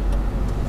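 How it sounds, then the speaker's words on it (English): A car rolls through a parking lot, its steady engine and road noise holding close and even through a brief moment. "there's a car coming"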